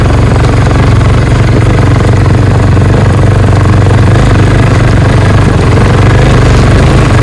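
Loud, rough motorcycle engine rumbling continuously up close on an extremely rough mountain road to Ghorepani, with a juddering, hammering texture throughout and no voices.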